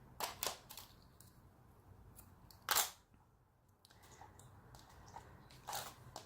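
Scissors snipping thread for a junk journal, three or so quiet, crisp clicks spaced over a few seconds in a hushed room.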